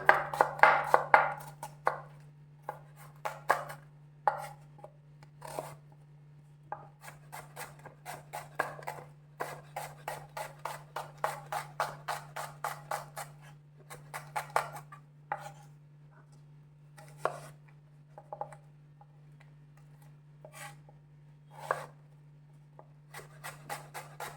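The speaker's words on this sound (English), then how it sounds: "Now we'll start with the onion. Onion you need to slice." A knife slices onion on a cutting board in quick, close, crisp taps, sometimes in fast runs and sometimes spaced out, over a faint steady hum, with no voices.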